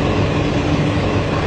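A train leaves a dark rural station in Miyazaki Prefecture, Japan, with a loud, close, steady rumbling roar of wheels and carriages moving along the track, alone without talk.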